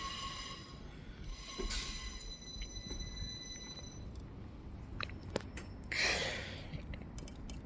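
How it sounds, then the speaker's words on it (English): Northern train 333007 pulling into Shipley station, a low rolling rumble with faint high wheel squeals and a tonal whine that fades out, plus a brief hiss of brakes or air near the end, heard from the platform at moderate distance. "now arriving in is going to be the delayed 1732 Northern service to Bradford Foster Square"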